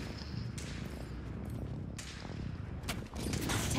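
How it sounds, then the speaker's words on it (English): Distant incoming gunfire in Apex Legends, a sustained crackling volley of rapid shots running through the whole stretch, with sharper bursts near the middle and end, no talking over it. "Taking fire."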